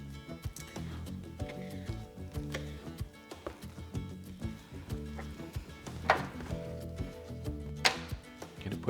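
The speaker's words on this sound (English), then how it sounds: "So we're just going to take our fat and dump it out. We're going to get trimmed up into little pieces." Knife chopping beef fat into small pieces on a cutting board, with irregular close wooden taps and knocks spaced through the stretch, some louder strikes standing out, quiet between.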